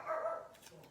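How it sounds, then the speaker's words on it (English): A dog growls from downstairs, a low rumbling snarl carrying indoors at moderate loudness for about a second before tailing off into quieter room noise. "and now Storm is growling downstairs"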